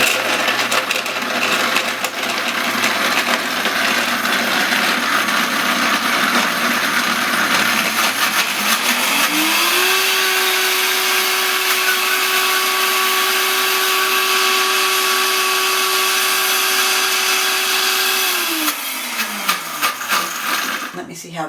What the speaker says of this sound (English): And now we're going to blend this up.